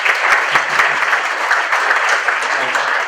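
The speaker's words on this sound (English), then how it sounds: "so give him a quick round of applause" An audience at an education event claps, a steady spattering of applause that holds at even strength throughout.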